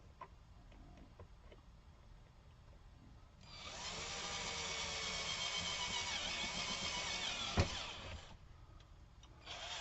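An electric drill bores a hole for rear shock mounts on an FJ40, trimming the burr as it cuts. A sustained whirring grind runs for several seconds between quieter handling noises, with one sharp knock near the end.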